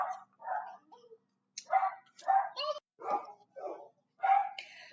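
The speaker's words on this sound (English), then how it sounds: "you hear my dogs barking" A dog barks repeatedly in short, close bursts with brief pauses, mixed with whining yips and no other background noise.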